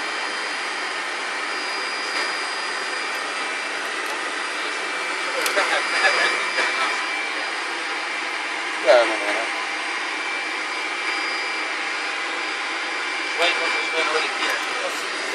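A Rolls-Royce RB211 jet engine on a Boeing 747-200 runs up with a loud, steady broadband roar and high whine that holds throughout, with a few brief louder swells and faint voices underneath.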